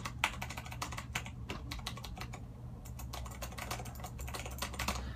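Rapid typing on a Razer BlackWidow mechanical keyboard, a close, quiet stream of crisp clicky keystrokes in an uneven rhythm over a low steady hum, with no talking.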